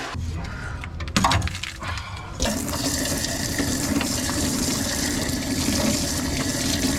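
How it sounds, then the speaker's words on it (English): Rusty water pours and splashes steadily out of a 1965 Plymouth Fury engine block during a coolant flush, a continuous close, loud gushing stream after a brief clatter at the start. "Oh, the rust water coming out."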